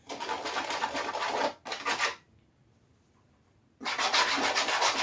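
A small whisk briskly mixes cinnamon and cocoa in a bowl, giving a dense scratchy whirring in two bursts, a short pause, then a final burst, close and fairly loud.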